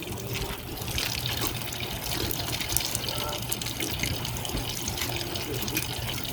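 Water pumping through the spider tubes of a swamp cooler during startup, a steady close hiss and trickle of flowing water that runs unbroken throughout.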